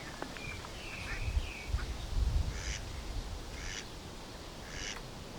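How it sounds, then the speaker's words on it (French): Ducks quack repeatedly beside a calm canal pond while other birds chirp, with a low outdoor rumble underneath and no talking. "À part les canards et les oiseaux."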